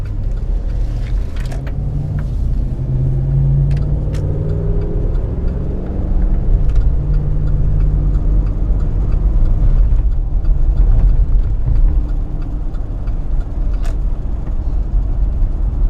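A Hummer's engine runs under acceleration, a loud, steady low rumble and whir from inside the cabin that swells slightly midway and holds throughout without pause.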